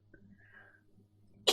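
A single sharp sneeze bursts out loudly at the end, after a stretch of quiet background hum and faint murmuring, with people nearby in a casual tabletop gaming session.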